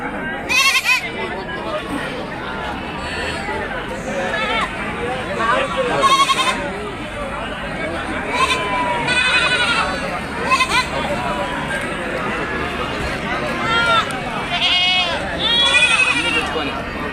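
Many goats and sheep bleat in overlapping bursts over a dense hubbub of people talking at a livestock market, loud and close throughout.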